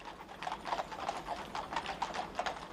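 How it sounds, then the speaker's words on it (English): Horses' hooves clip-clop in a slow, steady rhythm through a hushed funeral procession on London streets, the repeated strikes moderately close against a quiet crowd. "just the clip-clop of the horses"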